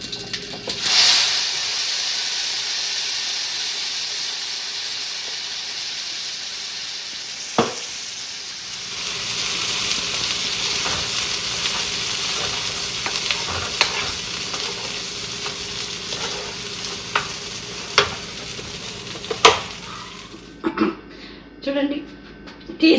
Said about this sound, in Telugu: మిరపకాయ, డ్రై చిల్లీస్ అండి. ఫ్రై చేసుకోవాలండి, కొంచెం ఫ్రై చేయాలి.